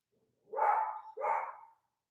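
A dog indoors barks twice at a man outside the window, two loud, close barks in quick succession with no talk over them.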